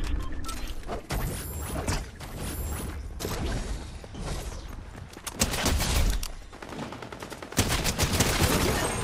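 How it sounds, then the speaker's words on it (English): Suppressed gunfire from a Fortnite Chapter 5 Season 3 match: bursts of muffled, rapid shots and sharp cracks recur throughout, mixed with mechanical clicks and game effects, with no talking. "I love the suppressor sound."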